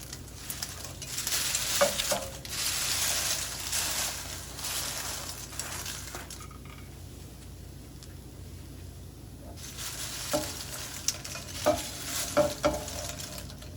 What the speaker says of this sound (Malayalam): ഇതിലേക്കിനി നമ്മൾ വറുത്ത് വെച്ചിരിക്കുന്ന പപ്പടം ചേർത്ത് ഇളക്കി കൊടുക്കാം.